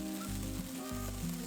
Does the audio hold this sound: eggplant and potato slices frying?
yes